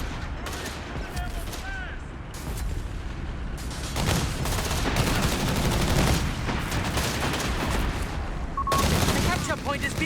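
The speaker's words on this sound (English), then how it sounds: "Captain dropping some artillery down on the machine gun" Artillery rounds crash down on a machine-gun position in the World War II strategy game Company of Heroes 3, a dense stretch of booming impacts and rattling gunfire under battle noise, with brief radio-style unit voices cutting in.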